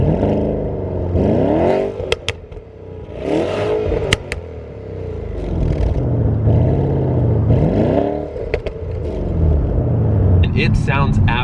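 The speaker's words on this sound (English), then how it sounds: "it does have an exhaust button down here that if you press it, it actually opens up the exhaust" Porsche Panamera Turbo with a 4.8 liter twin-turbo V8, exhaust valves open, rumbles and revs in repeated swells under continuous talking, with a few sharp clicks between surges.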